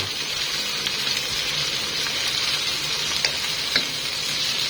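Pork liver sautés with plenty of garlic in a hot pan, a steady close sizzle and crackle with a few faint stirring ticks and no talking.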